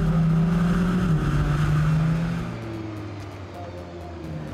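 Lamborghini Huracan engine in Corsa mode, a loud steady drone with a low tonal hum that drops in pitch partway through, heard from inside the car while driving, with no voices.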